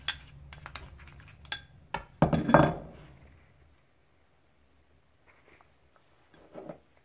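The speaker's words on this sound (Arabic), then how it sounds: "كنخلطو كنخلطو كنخلطو المكونات كلها على هذا الشكل" Spoon clinking against a bowl while mixing plain natural yogurt with other ingredients, a few scraping taps and a louder clatter early on, then near silence with a faint clink at the end.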